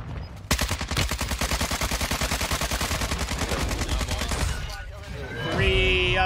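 Rapid automatic gunfire in the shooter Warzone 2 rattles in a dense, continuous burst for several seconds, loud and close, then breaks off; game sounds and a brief voice follow at the end.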